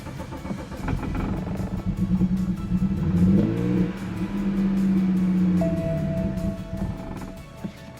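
The abandoned BMW 335i's engine runs rough and revs up and down steadily, with a droning tone and a brief whine near the end, close and loud with no talk.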